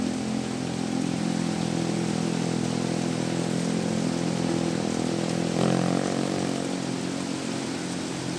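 A geared motorcycle runs in first gear over a steep, rocky village road near Cicadas, Darmaraja, its engine droning steadily and close, with a brief swell in revs partway through and no talk.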